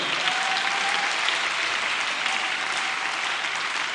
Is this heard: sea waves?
no